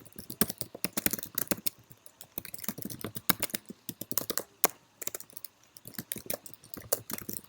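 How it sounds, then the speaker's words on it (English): Steady typing on a computer keyboard, a dense run of crisp, irregular key clicks with brief pauses, close and fairly quiet, no voices. "I'll let Donis finish typing and I'll read it"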